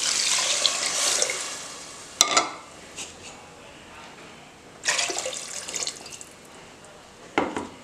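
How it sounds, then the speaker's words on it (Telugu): Water is poured into basmati rice in a pot: a soft, splashy pour up close at first, then a few brief clinks and splashes, with no talking. "నేను ఇందులో వాటర్ అనేది యాడ్ చేసేసుకుంటాను."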